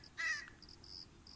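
A crow caws once sharply and nearby, followed by several faint high chirps, in a construction simulator game outdoors by a pool.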